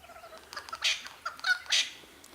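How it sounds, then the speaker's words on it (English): Eastern Rosella parrots at a bird feeder in Loch Sport give a few short, bright chattering calls in quick bursts, fairly close and moderately loud, with no talking. "There's another Eastern Rosella."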